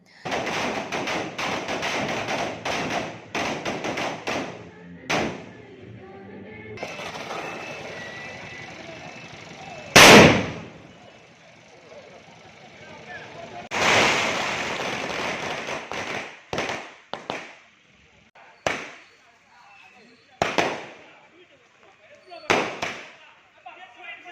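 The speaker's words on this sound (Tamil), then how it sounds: "பட்டாசு வெடித்து கேக் வெட்டி இனிப்புகள் வழங்கி கொண்டாட்டம்" Firecrackers burst at an outdoor political party birthday celebration in Tamil Nadu: scattered sharp pops and crackles, one loud close bang midway, then a string of separate blasts, with crowd noise between them.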